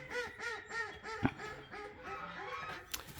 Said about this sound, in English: That's a duck. They're loud.